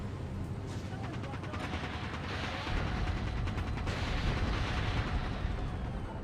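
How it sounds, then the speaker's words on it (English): Missile strikes slam into the ground in the dropship video game Dropship: UPF, a dense run of heavy, rumbling impacts that swell louder partway through and keep pounding steadily. "My missiles are hitting the ground."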